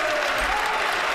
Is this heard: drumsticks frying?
no